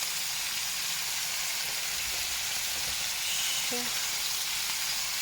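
Meat, onion, carrot and paprika fry in a pan, giving a steady even sizzle with no break throughout, and a brief faint tonal sound near the end.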